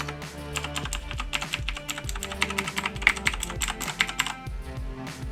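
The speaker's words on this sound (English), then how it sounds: "I really like typing on this keyboard because of that." Rapid, continuous clacking from typing on a Razer BlackWidow Chroma mechanical keyboard with non-Cherry MX switches. The dense, uneven keystrokes are close and crisp, with no talking.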